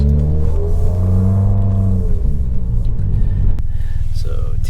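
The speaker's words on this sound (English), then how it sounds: "cousin wants to go ahead and try launch control for the first time in his vehicle" A 2019 Subaru WRX with a Remark Stealth Edition axleback exhaust revs loud and close at a launch control start, the engine note sweeping up and holding before dropping into a rough, pulsing idle.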